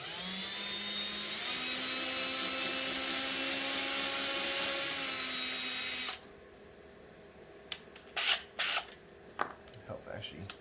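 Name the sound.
power drill drilling pilot holes in a wooden cutting board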